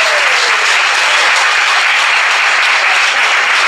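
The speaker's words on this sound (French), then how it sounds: "Applaudissez-vous." Dense, loud applause fills a political meeting hall, a constant roar of many hands clapping without a break.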